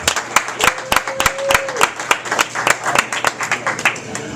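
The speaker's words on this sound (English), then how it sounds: "Give him a round of applause," A comedy club audience claps loudly and briskly in uneven bursts of sharp, close hand slaps, with a short whistle rising above the applause.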